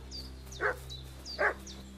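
A dog barking in the Kingdom Come Deliverance 2 video game, two distinct barks about a second apart at moderate distance, over a steady low ambient hum with faint bird chirps.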